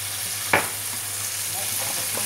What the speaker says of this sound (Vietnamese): Sau đó thì các bạn sẽ đảo đều lên khoảng 3-4 phút nữa thì là cái món này của mình nó chín